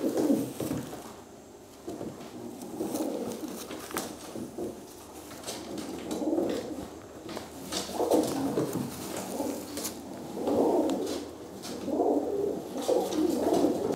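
Racing pigeons coo repeatedly in a loft, a steady run of low, soft, throaty calls that overlap and recur throughout, close by with no talking.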